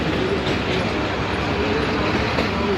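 Badar Express train at Shahdara Bagh railway station near Lahore, a steady loud rumble of rail cars rolling along the platform, continuous throughout with faint voices mixed in.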